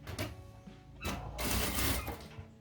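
A sewing machine stitching a seam along a zipper for a handmade fabric pencil case, sounding as two short bursts of rapid mechanical whirring close by, with a brief pause between them.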